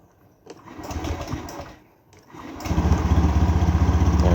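A Honda Vario 110 FI scooter engine starts smoothly via its ACG starter with no harsh cranking noise, then settles into a steady, close idle hum after a quieter mechanical whir.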